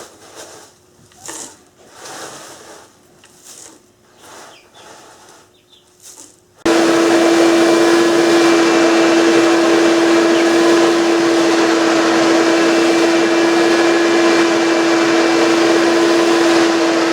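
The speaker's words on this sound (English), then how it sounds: "I'll go over what's left with the shop vac" A shop vac suddenly roars to life and runs loud and steady with a constant whine while it sucks wood chips out of a chicken cage, after a stretch of quieter rustling and scraping.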